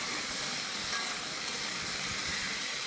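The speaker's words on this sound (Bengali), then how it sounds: "আলু আর কচুটা ভেজে নিচ্ছি।" Potatoes and taro frying in hot oil, a steady, even hiss of sizzling that holds constant throughout without pauses or voices.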